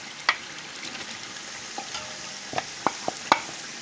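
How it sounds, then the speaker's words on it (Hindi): Minced mutton keema frying in a pan of cooked masala, a soft continuous sizzle broken by several sharp scrapes and taps of the spoon, heard close and alone. "कीमा अच्छी तरह भून लें।"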